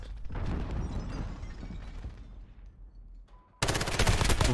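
Automatic gunfire from a Kilo 141 assault rifle in Call of Duty Modern Warfare: dense, rapid bursts through most of the clip, a brief lull, then a loud close volley at the end, with no talking.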